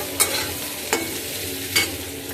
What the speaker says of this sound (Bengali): ঘি দিয়ে সাদা তেল দিয়ে ভেজে নিচ্ছি এটা